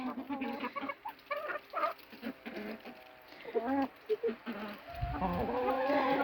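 Several chickens cluck and murmur close by in irregular bursts, with a person speaking briefly among them.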